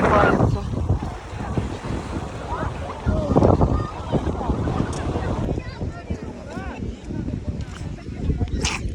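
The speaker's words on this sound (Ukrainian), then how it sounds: "Вітер піднявся, сильний сильний." Strong wind buffets the microphone in a steady broadband roar at Odesa's Pryvoz market by the sea, with someone talking over it throughout.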